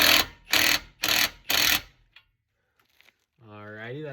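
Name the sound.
tightening a control arm bolt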